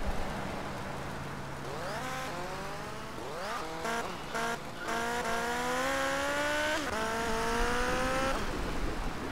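Revving engine of a motorcycle in GTA Vice City rising and falling through gears, with tire squeals and skidding, continuous and loud with no talk.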